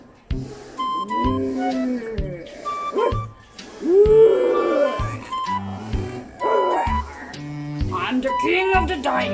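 A T-Rex dinosaur toy by a pool gives a series of loud, rising and falling electronic roars and growls, several bursts in a row with short gaps between them.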